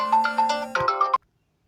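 A phone ringtone plays a bright, repeating electronic melody for just over a second, clear and fairly loud, then cuts off abruptly as the incoming call is answered.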